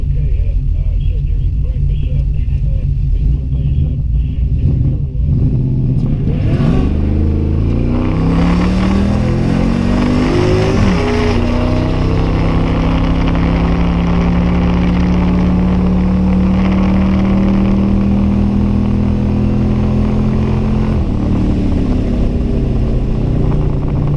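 A boosted 1000HP Pontiac Trans Am engine rumbles loudly, then revs with rising and falling pitch sweeps as it accelerates, briefly sounding flooded when the throttle is first opened; the roar is close and continuous.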